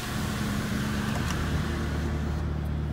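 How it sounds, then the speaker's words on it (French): McLaren sports car engine heard as a steady low rumble at moderate distance, smooth and continuous with no sharp revving, quiet throughout. "Le bruit de la McLaren."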